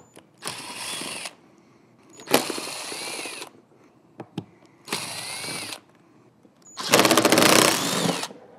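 A power drill fitted with an extension removes buried screws from a powered PA speaker in four loud whirring bursts of about a second each, separated by clicks and short pauses.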